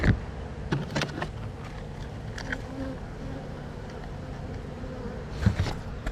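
Honey bees buzz around open winter hives housed in 8-frame boxes with a 1.5-inch bored entrance hole. A steady, close drone continues throughout, and individual bees fly past the microphone in louder passes.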